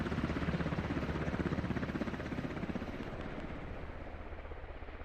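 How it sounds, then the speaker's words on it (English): A loud helicopter in a Squad match, its rotor chop throbbing steadily and close throughout, with a dense roaring drone that eases slightly toward the end. "That helicopter is loud"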